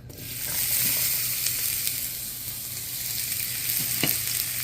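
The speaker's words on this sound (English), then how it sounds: "So here's my cut up onions, and basically I start to grill it." Chopped onions frying in oil in a pan for a beef stew, a steady close crackling sizzle with occasional louder pops and stirring scrapes, no talk.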